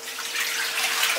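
Water pours steadily from a tap into a pot of pig trotters as a braise for cold-dressed trotters gets under way, a continuous close rushing splash lasting about a second with no talk.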